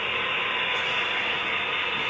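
Sound-equipped HO scale model locomotive, a Southern SD60 emulating a 645 prime mover, giving a steady loud diesel rumble and hiss that runs unbroken throughout, with no talk.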